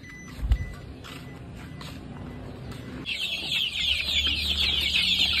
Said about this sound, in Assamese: এইকেইটা হৈছে মোৰ চৰাইকেইটা টোটেল ইয়াত 130টা আছে